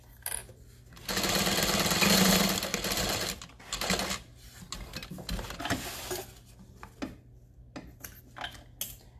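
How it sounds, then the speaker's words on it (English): A sewing machine bastes a tote bag lining at a long number 5 stitch with a narrow 1/8 inch seam allowance, running in one close burst of a couple of seconds, then fabric handling and light clatter. "basting with 1/8 of an inch seam allowance, still a number 5 stitch length"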